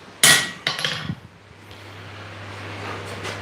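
A hammer strikes mild steel twice in quick succession, loud sharp blows in a smithing shop. A steady low hum continues after them.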